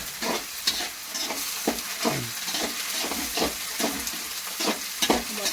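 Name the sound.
frying onions and tomatoes in a pan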